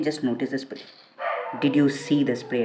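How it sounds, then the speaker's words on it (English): A dog barks at night in short bursts behind someone talking, loud and fairly close, with a brief break in the speech where the barking and background come through alone. "Very sorry about the dog barking."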